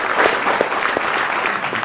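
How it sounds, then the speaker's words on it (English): Audience applause filling a room at a church-style gathering, a dense, steady wash of many hands clapping at once, loud and close, with no talk over it. "We just want to give God a big hand clap"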